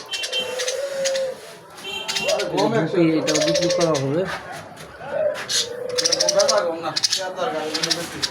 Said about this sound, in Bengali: আর একটা খাঁচার ভিতরে পাখি এটা হলো জুড়া পাখি এটাও বিক্রি করা হবে